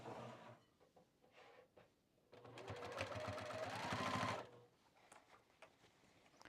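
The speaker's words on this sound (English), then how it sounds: "we're going to stitch 1/2 inch seam allowance" A sewing machine stitches a half-inch seam on overalls, a quiet close whirring run of about two seconds with short hesitant bursts before and after.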